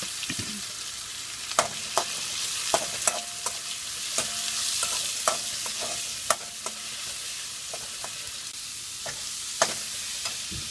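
Ginger garlic paste frying with onions for an egg curry, a soft continuous sizzle punctuated by repeated sharp clinks and scrapes of a spoon stirring against the pan, close and steady.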